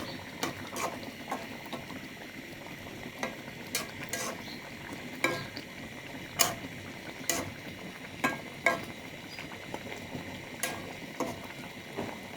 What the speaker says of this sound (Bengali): আর একটু নাড়াচাড়া করা হচ্ছে।